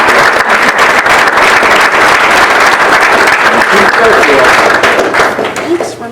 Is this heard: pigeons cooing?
no